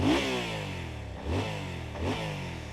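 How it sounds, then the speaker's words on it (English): A regular gasoline motorcycle engine revs repeatedly up close, three surges of throttle over a steady rumbling idle, loud and unaccompanied by talk. "If you could show the people what a regular engine sounds like."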